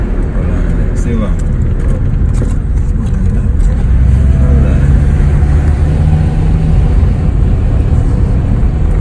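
Car driving along a road in Portland, Jamaica, its engine a steady close rumble with slight rises in revs throughout, under faint background noise.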